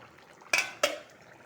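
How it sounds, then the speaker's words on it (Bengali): Two quick metallic clanks ring out as a pot lid is lifted off a pan of soybean paneer curry, close and sharp against a quiet kitchen background. "এখন দুই মিনিট মতন ঢেকে রাখবো ডাকিনটা খুলে দেখব"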